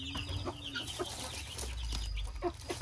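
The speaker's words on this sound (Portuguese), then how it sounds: "São as galinhas gigantes que eu tenho aqui." Giant hens cluck at a farm nesting area, making repeated short clucks and soft calls scattered through a steady low background hum, close by and moderately quiet, with no voices.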